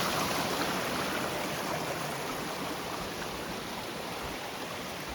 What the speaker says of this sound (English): the creek's over there